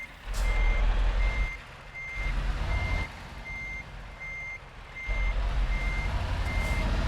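A truck's reverse alarm in Euro Truck Simulator 2 beeps at an even, regular pace over the loud diesel engine rumble, which swells and eases as the truck backs up, with no talking.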